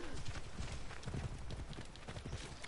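A horse gallops in Assassin's Creed Origins, its hooves drumming in a fast, continuous clip-clop that sounds close and fairly full.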